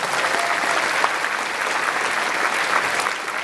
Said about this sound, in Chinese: 再给他们一次掌声好不好？